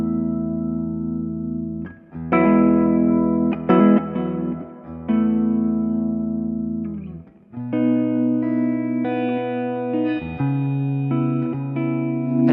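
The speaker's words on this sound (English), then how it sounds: "I'll play a wee bit of this guitar and you can get a bit of a flavour of what it's been like." An electric guitar plays sustained chords and notes through effects, thick and shimmering with a lingering wash, loud and close with short gaps between phrases.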